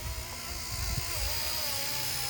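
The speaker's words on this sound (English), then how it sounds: "It's a beautiful little helicopter" A small RC Era C032 UH-1 Huey model helicopter, 1/48 scale, flies with a steady high-pitched motor whine and rotor buzz that wavers slightly in pitch, continuous and moderately close.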